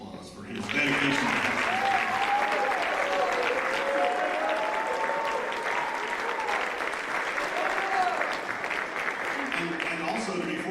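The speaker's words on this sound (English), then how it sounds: "I think Coach Robinson deserves a round of applause for his dedication" Sustained applause from a sports banquet crowd honoring a coach, dense and steady for about ten seconds, with some faint voices murmuring beneath the clapping.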